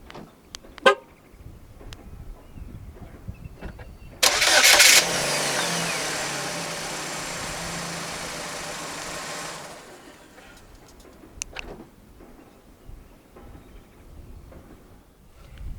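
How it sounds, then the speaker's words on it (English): A 2013 Chevrolet Malibu 2.4 LTZ starts remotely with a short burst, then settles into a steady idle for about five seconds. A couple of brief clicks come before the start and after the idle fades. "The Malibu in Malaysia does come standard with a remote engine start system."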